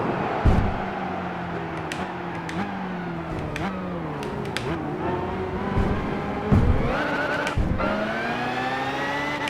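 A race car's engine in the driving game Gran Turismo 5 revs and shifts through gears, pitch climbing and dropping repeatedly with sharp knocks and bumps, steady and loud with no talk.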